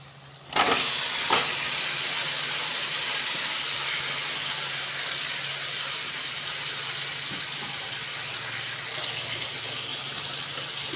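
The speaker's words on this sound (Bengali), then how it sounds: "এবারে আমি চিকেনগুলো ছেড়ে দেব" Chicken pieces dropped into hot oil and fried spice masala give a sudden loud sizzle that settles into a steady, close frying hiss, with a couple of clinks at the start.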